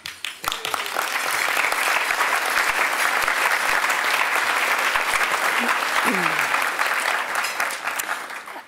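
An audience at an annual Supreme Court luncheon breaks into sustained applause, building quickly, holding steady and then tapering off, with a brief voice briefly audible partway through.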